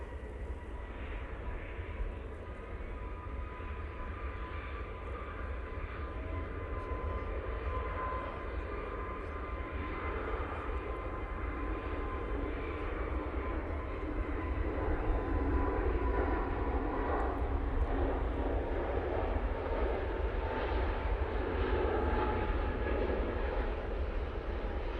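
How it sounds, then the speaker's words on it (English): Departing aircraft engines spool up at Manchester Airport, a distant, steady jet rumble and whine holding for a long stretch and growing somewhat louder toward the end. "when I switch over to arrivals, the departures spool up."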